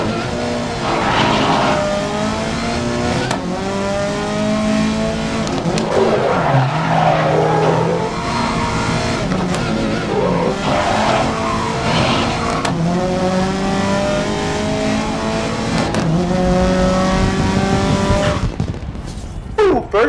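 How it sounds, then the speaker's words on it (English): A Subaru WRX in the racing game Grid howls around the track, its engine climbing through repeated gear changes with rising and falling revs, tire squeal and skids, loud and continuous before cutting out near the end. "Let's see if we can take this Subaru WRX around the track and get first place."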